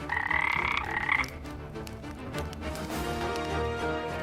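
A toad gives a loud, close run of rapid pulsing croaks, then stops as a low musical background carries on underneath.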